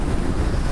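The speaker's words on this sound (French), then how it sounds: "il y a vraiment beaucoup de vent et ça souffle sur les roues" Strong desert wind on a motorbike ride through Uzbekistan, a brief, dense roar of gusts buffeting the microphone, loud and continuous with no voices.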